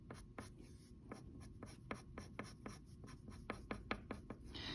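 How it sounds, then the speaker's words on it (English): Soft pastel scratches across paper in quick, regular cross-hatching strokes, a steady run of faint, close, dry scrapes that grow a little denser toward the end. "shadowing with some cross hatching down here"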